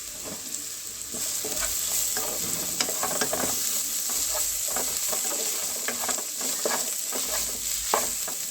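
Onion, tomato and spices with salt, cardamom, cinnamon and cloves sizzle and fry steadily in a pan while a spoon stirs and scrapes through the mixture, close and continuous.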